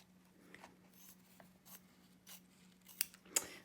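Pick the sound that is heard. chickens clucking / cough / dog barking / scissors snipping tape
scissors snipping tape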